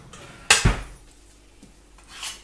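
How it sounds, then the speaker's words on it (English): A scoop digs into a container of dairy-free chocolate ice cream, making a sharp scrape and knock against the tub followed by a dull thud, then a faint scraping a moment later, close and otherwise quiet. "So we'll grab a scoop."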